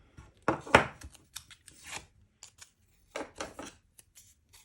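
Scissors fussy-cutting hot pepper shapes out of paper, close and quiet: short crisp snips and slicing strokes come in two clusters separated by a pause.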